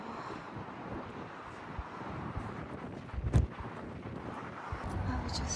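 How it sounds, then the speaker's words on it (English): Cold wind gusts steadily across a microphone outdoors near the Titanic museum in Belfast, Northern Ireland, a constant low rumble with a brief stronger buffet midway and some faint background voices. "It's windy and cold."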